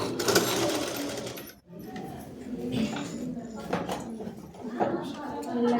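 A sewing machine stitches lining and main dress fabric together in fast, rattling bursts with short pauses between runs, heard close and fairly loud.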